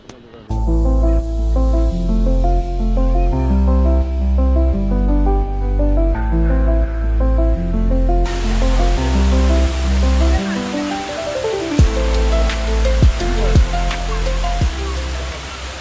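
A steady rush of falling water from a forest waterfall in Mankulam, Kerala, fills the scene under a loud droning tonal layer, continuous and close throughout.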